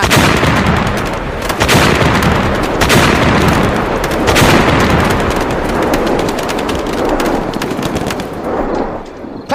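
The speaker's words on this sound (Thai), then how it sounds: "สวิตแมกนิโตของทุ่นระเบิดเคโม ถูกกดตามกันไปอีกนับเป็นสิบสิบลูก จนทำให้ป่าทั้งแถบนั้น โล่งเตียนขึ้นมาทันตา" Many claymore mines fired one after another in a forest, a loud, dense volley of sharp blasts and rapid cracks rolling on continuously, with several heavier bursts standing out.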